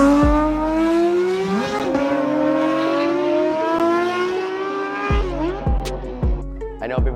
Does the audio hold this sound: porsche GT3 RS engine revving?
yes